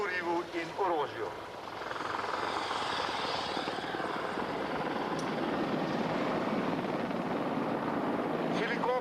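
A steady attack helicopter rotor drone fills the scene, loud and continuous, at an airshow in Celje, 1998; a brief voice is heard at the start before the engine noise dominates.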